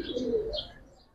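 Young pigeons cooing at a pigeon market, one short low coo close by with a faint chirp after it, no one speaking.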